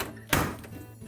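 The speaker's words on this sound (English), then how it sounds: "And then close the door up." A Whirlpool dryer door swings shut with a single solid thunk, close and fairly loud, followed by a short fading resonance in a quiet room.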